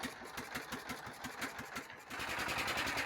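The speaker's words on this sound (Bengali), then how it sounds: "নৌকা স্টার্ট দিচ্ছে, ইঞ্জিন চালিত নৌকা।" A river boat's engine chugs close by in a steady, rapid rhythmic pulse, then grows louder and rougher as it revs up after starting, with no voices over it.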